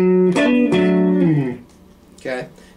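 Electric guitar playing the opening measure of the next section of a song, sustained chords shifting and sliding over about a second and a half, then fading before one more strum.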